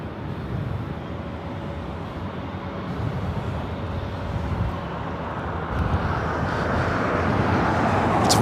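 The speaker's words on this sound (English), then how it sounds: "Turkish Airlines Flight 179 coming from Istanbul, 787-9" A Turkish Airlines Boeing 787-9 Dreamliner heavy jet arriving at LAX from Istanbul sends up a rising, broad engine roar that grows steadily louder as it nears, alone without voices.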